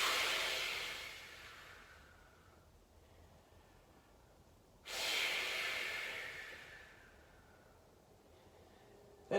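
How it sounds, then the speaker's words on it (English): Two long, deep exhalations during an at-home floor workout, each a slow airy whoosh fading gradually, close and alone, with a quiet inhale between them. "Take about 3 or 4 breaths like that."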